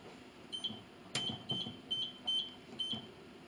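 A kitchen timer beeping in a sequence of short, high, evenly spaced beeps, about six in all, fairly quiet against a faint room background while eggs are boiled for dyeing.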